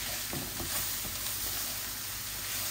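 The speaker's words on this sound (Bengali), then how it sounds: "আর এগুলো এইভাবে ভাজা ভাজা হবে।" Radish pieces and dried fish frying in a pan give a soft, continuous crackling sizzle with a few faint stirring scrapes early on and no talking.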